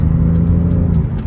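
A car engine revving on a circuit during a track day, a loud close steady drone with a strong low hum that holds for the whole moment, no talking.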